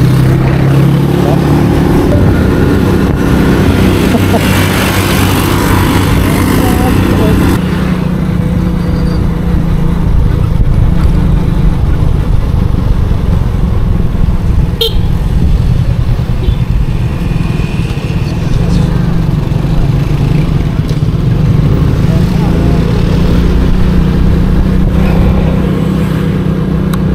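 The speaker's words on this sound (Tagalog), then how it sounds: "daming motor na meron dito." Many motorcycles and cars pass along a road as one dense, continuous roar of engines. Nearby riders rev and accelerate, and the rumble stays loud for the whole stretch.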